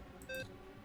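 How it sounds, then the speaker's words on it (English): Short electronic beeps from the video game Zero Escape: 999, a quick cluster of bright tones clear over faint background noise, with no speech. "You're gonna hear a lot of beeping"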